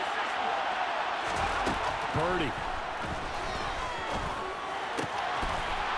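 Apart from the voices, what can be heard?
stadium crowd cheering in Madden NFL 23 video game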